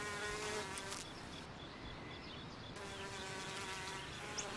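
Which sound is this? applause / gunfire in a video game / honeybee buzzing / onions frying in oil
honeybee buzzing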